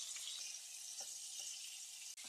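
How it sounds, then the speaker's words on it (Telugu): Fish frying in hot oil with turmeric until golden gives off a steady, fine sizzle, faint and close, with a few soft stirring taps through it. "గోల్డెన్ కలర్ వచ్చే వరకు ఫ్రై చేసుకున్నాం"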